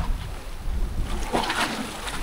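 Steady rushing wind and churning water fill the clip, a broad continuous roar with no voices, as large sea waves are buffeted by strong gusts on a windy day at the coast of Oslob, Cebu.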